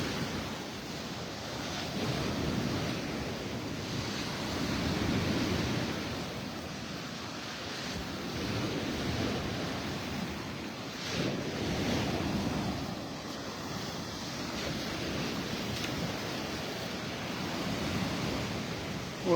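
Surf washing steadily onto Vanderbilt Beach in North Naples, Florida, on a morning walk; continuous broadband rush of waves with periodic swells and some wind buffeting the microphone, no talking.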